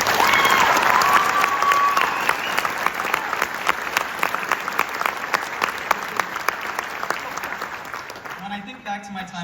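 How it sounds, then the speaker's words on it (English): Graduation audience applauding at a 2024 high school commencement, dense sustained clapping from a large crowd that carries on steadily before tapering off near the end, with a brief voice at the start. "Can we please give a round of applause for everyone?"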